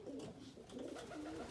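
Racing pigeons cooing inside a loft, soft repeated throaty coos overlapping in a low murmur, faint and close.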